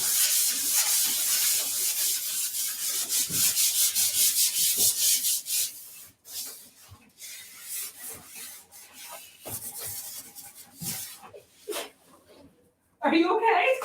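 Flexible rad pad rubbing by hand across a piece of furniture during prep, a steady, close scratching that runs continuously, then breaks into shorter strokes, with a voice talking partway through.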